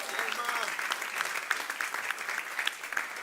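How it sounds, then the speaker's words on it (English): An audience claps continuously, a dense steady patter of many hands at moderate volume, with faint voices mixed in. "Give them a round of applause."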